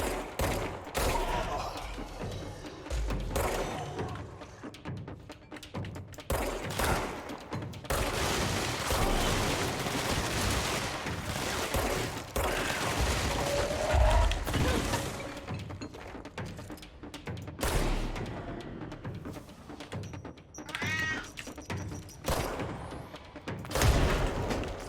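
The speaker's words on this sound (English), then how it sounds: "those grenades properly destroy things, don't they?" Heavy explosions and gunfire from grenades in the action video game Control, loud, dense booms and shots running back to back throughout, with brief talk mixed in.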